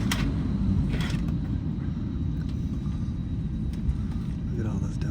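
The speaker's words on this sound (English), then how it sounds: "Backing out the gate." A Delta airliner being pushed back from the gate produces a continuous low rumble, with a faint engine whine above it that stays steady throughout.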